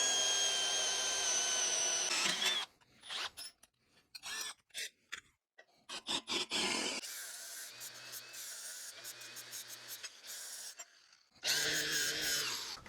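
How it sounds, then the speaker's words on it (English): Power drill boring 1/2 inch holes through metal for a homemade metal bender in a workshop, with a loud whirring run at the start, several short bursts in the middle and another sustained run at the end. "On these marks, we're going to drill out our holes for our 1/2 inch rods, or 13mm"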